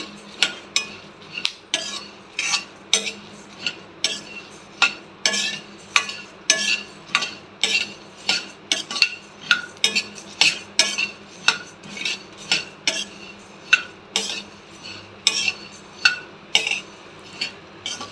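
A spoon repeatedly scrapes and clinks through curry masala spices frying in a pan over a low flame, in a brisk, regular stirring rhythm with a faint sizzle underneath and no voices.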